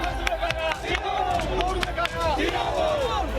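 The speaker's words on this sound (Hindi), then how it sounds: "दीदी की पदयात्रा में न तो भीड़ की कमी थी, न माहौल की।" A large crowd at a political foot march rally in Nandigram: loud, dense babble and cheering, with chanting voices and scattered claps, close and continuous throughout.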